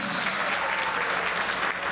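Audience applause at the Haitian Music Awards 2026 ceremony, dense sustained clapping from a crowd filling the whole moment, loud and close.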